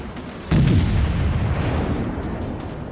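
Warship guns firing in World of Warships from the Émile Bertin cruiser: one heavy, sudden boom that rolls into a long rumbling decay.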